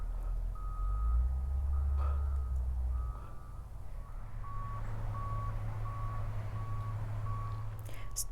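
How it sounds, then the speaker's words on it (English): Big trucks working at a gravel processing plant near a campground, a heavy engine rumbling low and steady while a reversing alarm beeps in a regular, evenly spaced series, moderately distant. "A lot of big trucks coming in and out of there, and a lot of noise from those guys."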